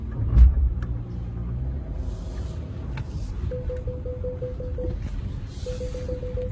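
A Porsche Cayenne Platinum on aluminium wheels and standard tyres crawls over a rough off-road axle-twister crossing, its engine giving a low, steady rumble up close, with faint creaks and a repeated short electronic beeping partway through.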